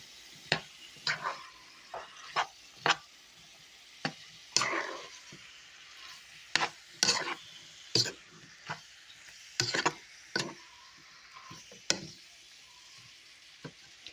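Meat and onions for Hungarian goulash brown in a pot, with repeated scraping, clattering strokes of a spoon at an uneven rhythm over a quiet low sizzle.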